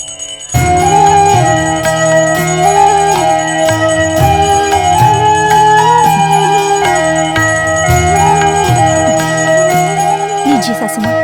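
A hand bell rings loudly during a Hindu household prayer, its repeated metallic strokes sounding over a continuous bed of music.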